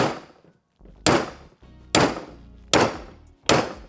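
Hammer blows straightening a damaged aluminium radiator from a Honda RM250 motorcycle rebuild, four sharp metallic strikes at roughly one-second intervals, loud and close, each ringing briefly before the next.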